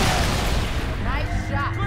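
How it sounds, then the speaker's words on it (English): Heavy, dense gunfire in Halo: Reach, a loud continuous roar of shots and booms filling the whole clip up close, with faint voice-like tones underneath. "Opening fire!"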